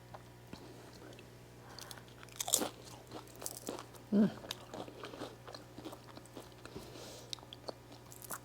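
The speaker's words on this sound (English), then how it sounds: "the crunch of the chips" Tortilla chips crunching as vegan nachos with queso sauce are eaten, a series of close, sharp bites and chewing crunches spread through an otherwise quiet stretch with a steady low background hum.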